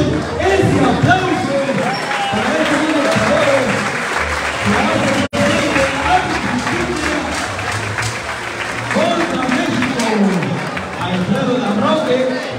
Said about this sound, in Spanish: nuevamente pedimos un fuerte y que se escuche ese aplauso.